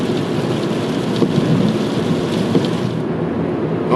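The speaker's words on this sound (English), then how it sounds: "It's starting to rain." Steady, dense rain drums on a car during a drive along a highway near Aberdeen, a loud, continuous wash of noise with no voices.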